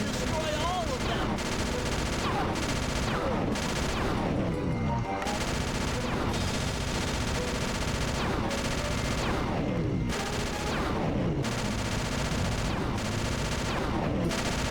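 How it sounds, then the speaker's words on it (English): A constant barrage of Hunter-Seeker bombs rains down in the video game Sly 2, with repeated loud explosive bursts and impacts running through the whole stretch amid busy game noise and music. "Rajan is raining down a bunch of Hunter-Seeker bombs on Murray"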